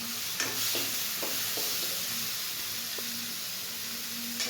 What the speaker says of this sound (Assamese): ভালকৈ এইখিনি অকণমান দেৰি ভাজি ল'ম